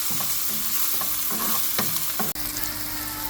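Goan masala and onions fry in a pan with a dense, loud sizzle, punctuated by several scraping stirs and a sharp knock near the end.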